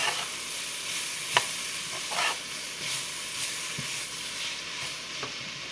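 A small head of cabbage simmers down in a soup pot, giving a steady soft sizzle and hiss with faint stirring clicks and occasional light knocks, fairly quiet and with no voices.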